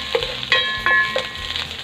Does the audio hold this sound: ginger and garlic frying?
yes